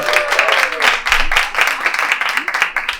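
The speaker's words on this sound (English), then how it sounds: "Let's give a round of applause for Nina." An audience at a fashion panel applauds a speaker, a loud, close wash of clapping with a few voices mixed in.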